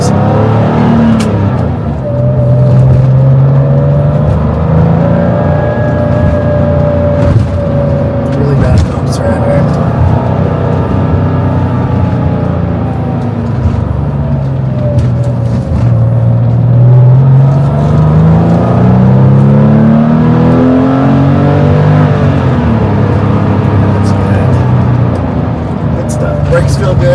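A 1996 Porsche 911 Carrera engine hums and rises steadily in pitch as it accelerates, loud and continuous throughout, with a long smooth build.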